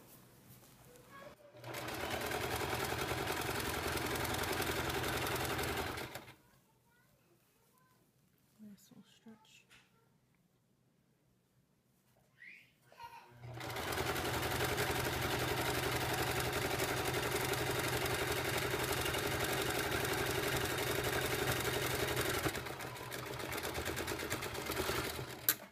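Sewing machine running a zigzag stitch over towel fabric for homemade pants, a loud steady mechanical whir in two long runs broken by a quiet pause with faint handling noises.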